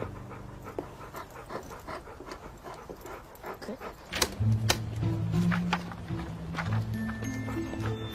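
A dog panting in short repeated breaths, fairly close, with some rustling and thumps in the background and no talking.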